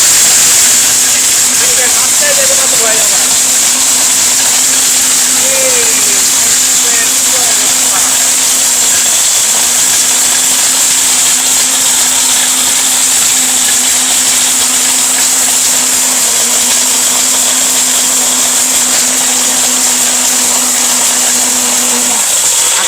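A Steel Bush electric blender whirs at a steady high pitch for a long stretch, with a brief dip midway and a voice talking faintly underneath.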